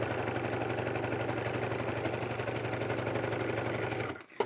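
A sewing machine runs steadily while stitching an interior pocket into a DIY bag, a continuous close, fast mechanical whir with rhythmic needle clatter that stops abruptly just before the end.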